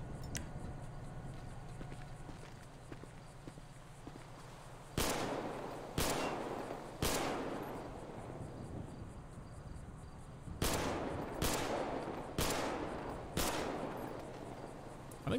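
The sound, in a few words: gunfire at a shooting range, video game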